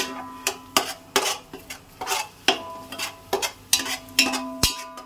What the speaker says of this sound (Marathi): टॅमॅटोची प्युरी आपण थोडीशी परतून घेऊया.